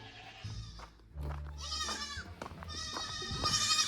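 Young goats bleating several times, loud and close, with wavering cries overlapping each other; some low rumbling and faint voices sit underneath.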